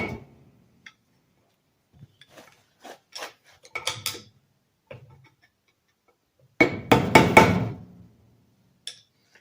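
Sharp metallic taps from a brass hammer striking parts of a Robin 2PG golf cart engine during reassembly, scattered single knocks followed by a quick cluster of louder blows, close and alone.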